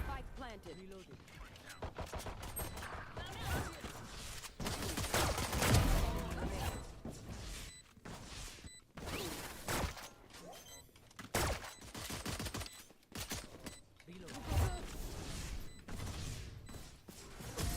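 Rapid gunfire in the video game Valorant, with bursts of shots and clicking weapon mechanisms that come and go over a dense, busy game mix, while a player talks now and then.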